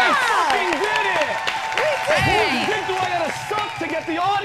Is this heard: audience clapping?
yes